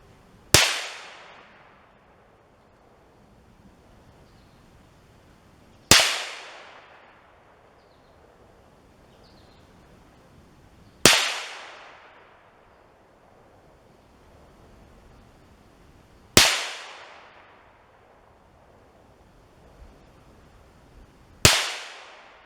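A Ruger American Rimfire rifle in .22 WMR fires five single shots spaced about five seconds apart, each a sharp loud crack with a short decaying echo, outdoors with quiet between shots and no talking.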